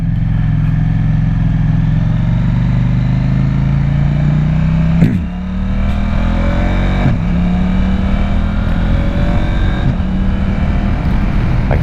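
2024 KTM 890 SMT motorcycle ridden at night on a tight downhill road: a loud, close engine drone that climbs through the revs, a quick gear shift, then steady pulling and easing, with wind rushing throughout.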